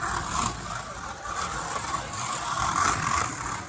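A slot car fresh out of the box, unmodified, runs on a club track during a setup day, giving a steady buzzing whine at fairly constant pitch for several seconds, close by with no talk over it.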